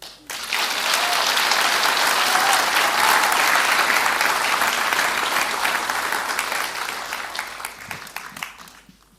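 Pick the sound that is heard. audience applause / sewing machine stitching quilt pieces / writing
audience applause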